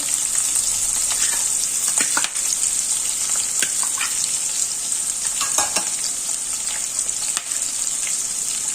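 Chopped onion sizzles steadily in a hot oiled pan for a Gujarati batata poha, with a dense frying hiss throughout and occasional scraping stirs of a spoon against the pan, close and fairly loud, with no talking.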